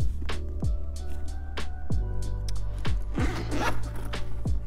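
Zipper on a large Michael Kors Charlotte leather top-zip tote bag, pulled in a quick series of six or seven sharp, close rasping strokes with no talking.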